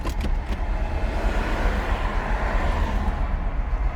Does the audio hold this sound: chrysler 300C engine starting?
yes